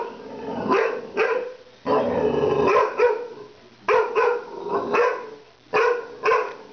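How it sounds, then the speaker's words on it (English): A dog barks at a watermelon in sharp, loud bursts, several clusters of close barks separated by short pauses, with no talk over them. "She's barking at the watermelon."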